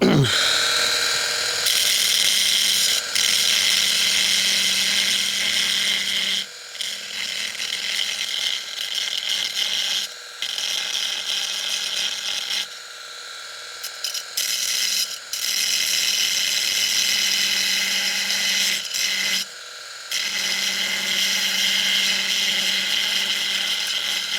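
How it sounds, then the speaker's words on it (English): A power file, a belt file sander, grinds on an Alfa Romeo GTV headlight, running as a loud, steady mechanical whir up close for most of the stretch, with several brief pauses where it stops and restarts. "then we just use the power file, trusty old power file"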